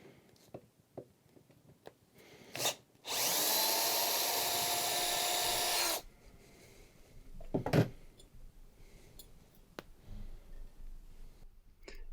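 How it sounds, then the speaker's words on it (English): Screws are backed out of a height-adjustable fitting, with a loud, steady three-second whir standing out between scattered quiet clicks and handling noises. "Unscrewing."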